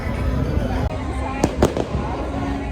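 Fireworks explode at EPCOT in a few sharp, booming bursts over a busy outdoor crowd, with voices talking throughout.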